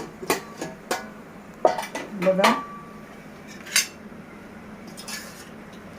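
A metal pressure cooker is opened in a home kitchen while spinach and chana dal cook, giving several sharp clanks and clattering lid knocks with a ringing metallic tone, while someone speaks briefly.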